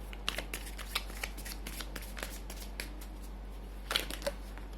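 Tarot cards being shuffled close up, a run of soft rapid riffling and flicking sounds over a low steady hum, no talking.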